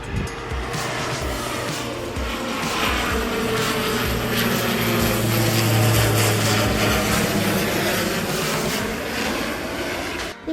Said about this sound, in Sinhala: ඉතින් guys අපිට ඊළඟට බලා ගන්න පුළුවන් උනේ සිනමන් එයාර්ලයින් එකට අයත් ප්‍රොපෙලර් ප්ලේන් එකක්.